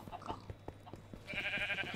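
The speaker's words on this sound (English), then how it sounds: "There's his sheep farm" Sheep bleating on a Minecraft sheep farm, one wavering game bleat rising in the second half over faint clicks and low background hum.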